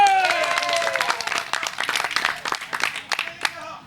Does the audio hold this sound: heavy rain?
no